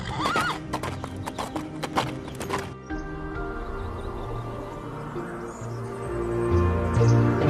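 A horse neighs and whinnies close by while hooves clip-clop in a quick trotting rhythm, followed by steady hoofbeats under a low rumbling background and soft voices.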